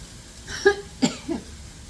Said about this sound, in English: If I'm coughing through this whole thing